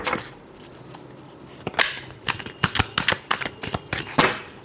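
Tarot cards being shuffled by hand, a run of crisp riffling snaps and flutters that grow denser and louder toward the end, close up and with no talk.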